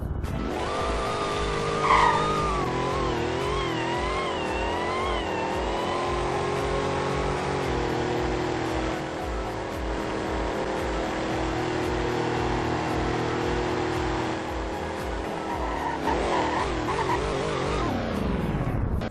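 A racing video game car brakes hard from 100, with a sustained tire screech and skid over a droning engine tone lasting many seconds, loud and steady with no speech.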